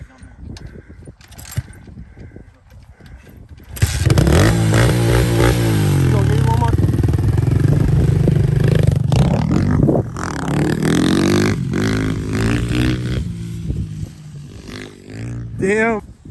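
Apollo 125 dirt bike engine idling, then revving up loudly with rising and falling pitch, close by, while people talk over it.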